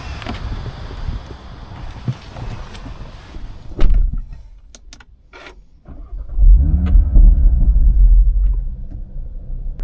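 A cheap high-mileage Audi RS3 driven on a private road: rumbling engine and road noise that fades briefly, then swells again into a deep, loud drone, with no voices.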